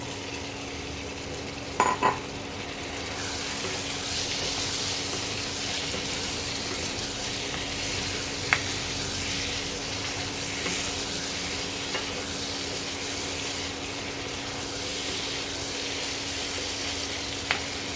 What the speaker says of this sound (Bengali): টেম্পারেচারটা এখন কমিয়ে দিতে হবে, কমিয়ে আস্তে আস্তে মশলাটার সঙ্গে চিকেনটাকে ফ্রাই করতে হবে।